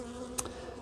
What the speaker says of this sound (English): So I prefer to use the powdered sugar shake so I can dump those bees back in the hive.